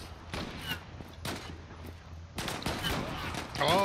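Rapid bursts of automatic gunfire in the online shooter Zula, several quick volleys over a few seconds mixed with game effects and a player's voice chatter.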